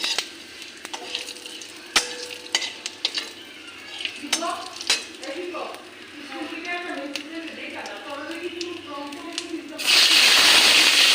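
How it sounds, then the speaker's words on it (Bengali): Bay leaf and whole cumin tempering in hot oil in a wok: light clinks and stirring scrapes come first, then a loud burst of sizzling at the end. Someone talks faintly in the background. "তেজপাতা গোটা জিরা আমি ভাজা কড়াইতে ফোড়ন দিয়েছি"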